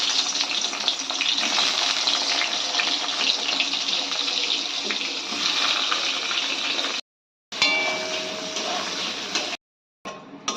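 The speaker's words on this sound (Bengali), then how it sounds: "এবার বেগুনগুলো আমরা ভেজে দেবো।" Steady crackling sizzle of eggplant frying in hot oil, close and continuous, broken by two brief silent gaps.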